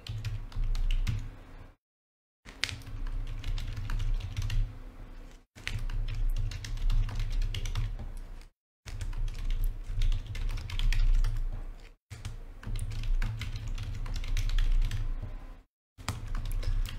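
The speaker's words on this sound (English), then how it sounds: "I'm just going to start typing everybody else in" Someone types names into a computer while opening trading card boxes, producing quick irregular key clatter in bursts separated by short silent breaks, close and moderately quiet, with no talking.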